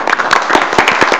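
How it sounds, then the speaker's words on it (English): Brief applause from a city council meeting audience: a short burst of distinct, close hand claps from a small group in a council chamber, quick and uneven. "I think we need to give him a round of applause."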